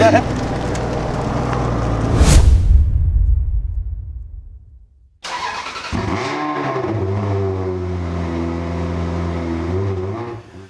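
A supercar engine revs loudly nearby, roaring up and fading out, then restarting with a steady, deep idle and throttle blips as the car is maneuvered into a parking spot.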